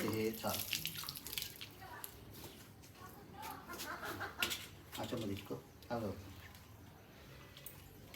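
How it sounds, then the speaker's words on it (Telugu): Water is poured from a vessel over people's hands and feet during a Hindu puja ceremony, splashing steadily and close by while people talk nearby. "నేను ఇట్లా నీళ్ళు పోస్తా"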